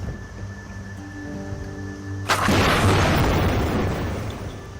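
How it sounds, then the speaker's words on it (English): A low rumble with steady tones gives way to a sudden deep boom that spreads into a long roaring wash, like an underwater blast, from an array of seismic survey air cannons towed by a ship at sea. "The survey ship tows an array of air cannons."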